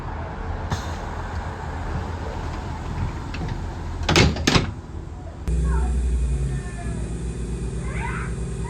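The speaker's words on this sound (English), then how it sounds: "one thing that I'll always remember from seeing videos of these trains is the fun fold-back doors" The fold-back doors of a Class 143 Pacer train give a brief double clatter midway through over a steady train rumble, and a louder engine drone follows.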